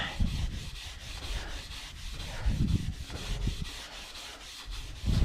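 Steel wool scrubs grimy vehicle chrome in steady back-and-forth rubbing, with heavier gritty strokes in bursts and no talking.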